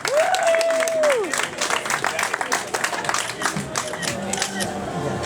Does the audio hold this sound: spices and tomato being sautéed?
no